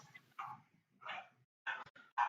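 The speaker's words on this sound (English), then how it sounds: "you have to excuse the dogs in the background." Several dogs bark in the background in short, loud bursts with pauses between them, and a few sharper yips come near the end.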